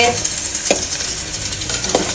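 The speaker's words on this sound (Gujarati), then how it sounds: "અહીંયા અમારી ગરમા ગરમ વેફરો તળાવવા માંડી છે" Potato wafers fry in hot oil with a loud, continuous sizzle, broken by occasional clinks and scrapes of a utensil stirring in the pan.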